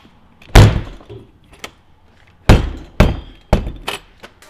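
Subaru Legacy car door shut several times in a row, each a loud, close thunk with a brief rattle, spaced by short pauses in an otherwise quiet space.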